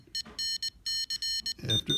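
A Morse code trainer gives a series of sharp electronic beeps in quick bursts, with a brief double beep near the end and a faint voice underneath.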